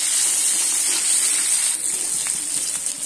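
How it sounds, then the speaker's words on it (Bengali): Chopped onion fries in oil in a pan, a steady close sizzling hiss that holds evenly throughout with no voices. "একই তেলের মধ্যে দিয়ে দিচ্ছি একটা কুচনো পেঁয়াজ।"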